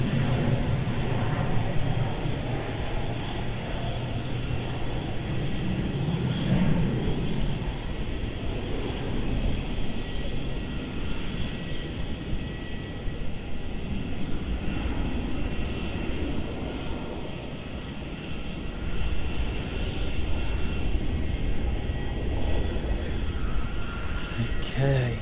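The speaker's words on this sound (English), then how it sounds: "so it's Jetstar Dreamliner" A Jetstar Boeing Dreamliner jet at Melbourne Airport produces a continuous broad engine roar that swells and eases slightly, steady and moderately loud throughout.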